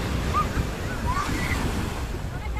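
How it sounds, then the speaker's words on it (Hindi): Sea waves surging onto the shore, a close, continuous rumbling wash with wind buffeting the microphone and a few faint voices and cries in the background. "अचानक से लहरें आ गई"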